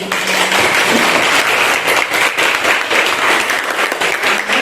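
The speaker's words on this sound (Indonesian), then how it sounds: "Oke, berikan aplaus lagi." A classroom of students applauds together, producing dense, loud, continuous clapping that stays steady for several seconds.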